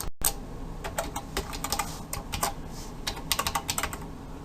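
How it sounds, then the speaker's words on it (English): Typing on a computer keyboard while coding HTML, with irregular bursts of close, clicky keystrokes, quick runs of taps broken by short pauses, no talking. "bear with my typing"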